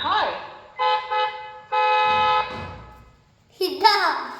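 A toy car plays its ordinary car horn sound effect, several bright electronic toots in short bursts with pauses between them, close and loud, with a voice also audible.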